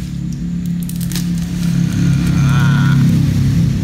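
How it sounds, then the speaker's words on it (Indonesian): Motor vehicles passing near a racing circuit, a loud low engine drone that swells as one goes by, with crackly handling noises close by. "aku rumahnya itu deket ini sirkuit buat balapan, jadi banyak motor lewat, terus banyak mobil juga gitu"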